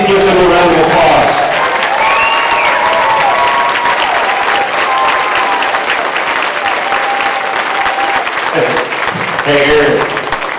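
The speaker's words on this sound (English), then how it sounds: "Please give them a round of applause." Sustained audience applause for United States veterans standing at a live event, loud and dense throughout, with cheering and a voice talking over the crowd at the start, and further talk and tonal sounds mixed in.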